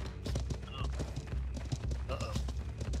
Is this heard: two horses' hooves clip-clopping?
yes